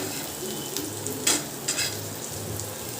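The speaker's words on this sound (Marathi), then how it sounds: "आता हे कांदा चांगला ब्राऊन होईपर्यंत परतून घ्यायचं आहे" Onion sautés in a pan with a soft continuous sizzle, marked by two or three brief scraping stirs of a spatula.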